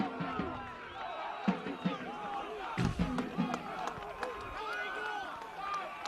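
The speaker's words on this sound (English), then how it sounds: "Just listen to the crowd here. They are absolutely loving it." Football crowd at a Victorian Premier League match between North Sunshine Eagles and Manningham, a steady roar of cheering with sharp shouts and claps rising through it, commentary speech over the top.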